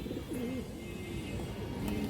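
A silver border pigeon with a black tail and wings gives soft low coos close by, a couple of short rolling calls over a quiet background hum.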